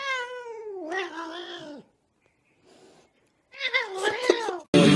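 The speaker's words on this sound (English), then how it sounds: "Oh, kitty, I love you so much, beautiful cat." A cat gives two long, drawn-out meows, the first falling in pitch, then after a short pause a louder, wavering caterwaul, close to the listener.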